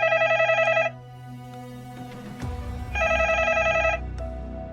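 A telephone rings at a police central station in Madrid in the middle of the night: two bright electronic trill bursts, each about a second long, separated by a pause with a low rumbling background.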